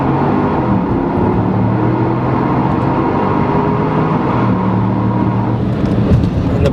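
A Porsche Cayenne Turbo accelerates hard, giving a loud, continuous engine roar with rising tones and a faint change near the end as it shifts gears.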